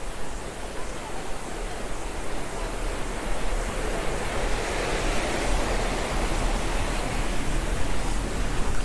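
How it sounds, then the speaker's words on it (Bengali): Water rushes along the path to a waterfall in Ubud, Bali, a loud, steady broadband wash of flowing water that continues without a break. "দেখো এখান থেকে জল যাচ্ছে, এটা হচ্ছে ওয়াটারফলের রাস্তাটা।"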